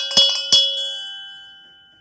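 A small bell used to clear an oracle card deck is struck twice in quick succession, each bright ring sounding close and clear before the tone fades away slowly into silence.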